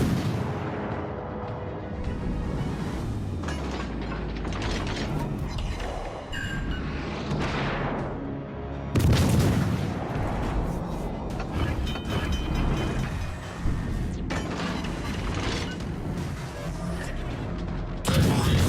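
A macro cannon fires in a Warhammer space battle video game, a series of heavy booming blasts and bursts with loud impacts layered over dense battle noise and rumble, and a voice speaks in places.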